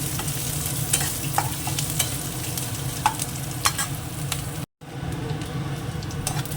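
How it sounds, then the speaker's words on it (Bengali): Grated coconut and chopped green chilli fry in a pan with a close, steady sizzle, punctuated by sharp scraping strokes of a spatula and a brief cut of silence. "নারকেল আর কাঁচা লঙ্কা কুচে একটু ভাজার জন্য ভেজে নিয়ে আগে একটু লাল করে"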